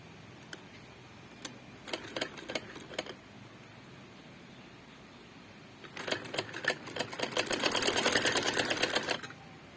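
A sewing machine stitching fabric to join two pieces: a few short bursts of rapid needle clatter, then a longer run that speeds up into a steady, close mechanical whir before stopping, with no talking.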